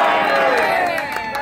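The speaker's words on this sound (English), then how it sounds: "So I want you to give a really big cheer and say, thank you, family farmers." Rally crowd at the Salem Capitol cheering for family farmers, a dense, loud, sustained roar of many voices with shouts and whoops mixed in, unbroken for the whole moment.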